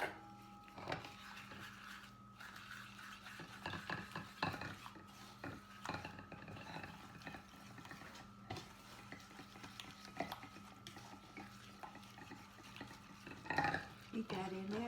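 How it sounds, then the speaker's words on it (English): An egg is beaten into blondie batter with a wooden spoon in a bowl, making irregular scraping and knocking strokes with occasional clinks. The sound is fairly quiet, with light kitchen noise underneath. "And you beat the egg with a wooden spoon into it."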